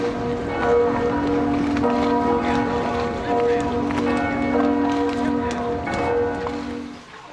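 Church bells ring steadily across the water in Venice, facing the island of San Giorgio, a sustained layered peal of overlapping tones with soft background murmur throughout.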